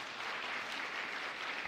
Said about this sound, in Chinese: 我们再次拍手欢迎他。